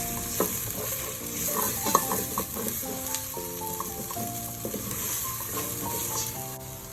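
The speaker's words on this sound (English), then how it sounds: "Continue sauteing for a couple more minutes until it caramelized a bit." Cinnamon, star anise, cumin seeds and lemongrass sautéing in a pan for beef rendang, a steady close sizzle with frequent scraping stir clicks throughout, no talking.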